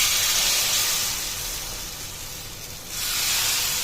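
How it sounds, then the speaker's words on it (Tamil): Tomato dosa batter hits a hot pan with a steady loud hiss, dipping briefly in the middle before the sizzle swells again near the end. "இப்போ தக்காளி தோசை ஊற்றிக்கலாம்."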